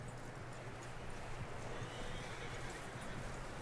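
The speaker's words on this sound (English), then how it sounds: "That looks like a decent horse." A horse in the Red Dead Redemption game snorts and whinnies under a steady, noisy background, with some hoof clatter, faint and fairly distant.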